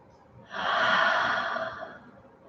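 A single deep breath during a gentle yoga session, heard close as one long airy inhale or exhale lasting about two seconds, followed by the start of another breath.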